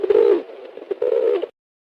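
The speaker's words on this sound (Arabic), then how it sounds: "حمامة." A pigeon coos close by in two soft, throaty rolling phrases with a short break between, alone and clear.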